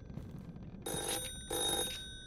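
Two separate bursts of a game telephone ringing inside a horror video game, a bright trilling bell heard loud and close over a low ambient hum.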